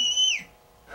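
A drinking cup gives a clear whistle: a steady high pure tone with a faint upper harmonic holds for about a third of a second, then slides downward and fades into quiet room tone.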